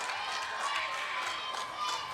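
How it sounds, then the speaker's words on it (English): A crowd at a live wrestling exhibition show cheers and murmurs in a continuous, roomy wash of voices, moderately loud and steady over the short span. "Crowd likes that."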